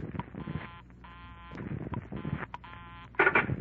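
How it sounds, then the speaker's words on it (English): Telephone dialing as a radio drama sound effect: a string of separate tone-like buzzes for each digit, spaced with short gaps, fairly faint and clean, with no talk over it. "She dialed. And I dialed. I was just one number behind her all the way."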